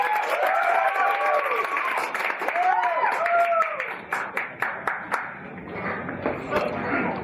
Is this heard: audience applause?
yes